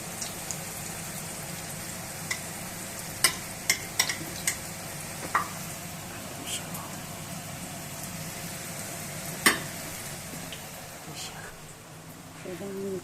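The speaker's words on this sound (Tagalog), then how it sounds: "Nagtatsikan kasi ang mantika." Cooking oil spitting and sizzling in a pan while food fries in a kitchen in Japan: a constant hiss broken by scattered sharp pops and crackles, close by, with a person talking over it.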